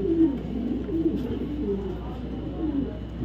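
A female Iraqi racing pigeon coos in low, soft rolling calls, repeated several times against a steady background hum.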